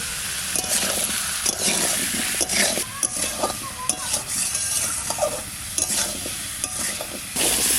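Raw elephant foot yam pieces fry in a hot pan with salt and turmeric, stirred with a utensil: a close, loud sizzling hiss broken by repeated scraping and clattering strokes throughout.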